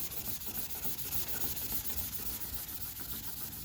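A hand rubbing across 31-year-old original car paint, a steady dry scuffing hiss that swells and eases with the strokes, quiet and close, with no one speaking.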